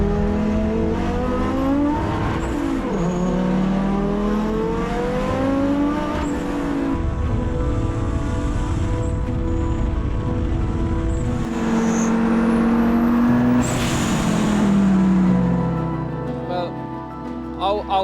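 A five-cylinder Audi S1 race car climbs Pikes Peak, its engine revving and dropping through gear changes and braking for corners, a loud rasping tone heard throughout with a commentator talking over it.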